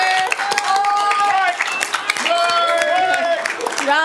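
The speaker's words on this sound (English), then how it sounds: "Round of applause" Audience applause at a key-to-the-city ceremony for Mix Master Mike, dense clapping under cheering and raised voices of a crowd, loud and sustained throughout.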